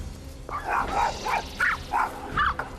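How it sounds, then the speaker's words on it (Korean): A leashed pet dog barks repeatedly at other dogs on a walk, about six sharp, yelping barks in quick succession, fairly close and alone. "줄을 끌며 달려가서는 친구들을 향해 짖어대는 상디"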